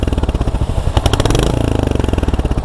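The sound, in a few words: Royal Enfield Hunter 350 motorcycle exhaust idling in neutral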